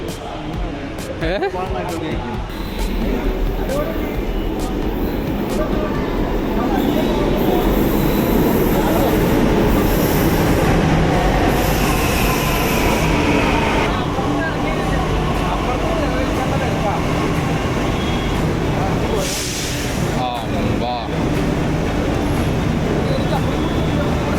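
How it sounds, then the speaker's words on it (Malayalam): A Delhi Metro train rumbles loudly through a station, a long sustained roar with some squealing, while people talk nearby. "ഇതാണ് മെട്രോ സ്റ്റേഷൻ."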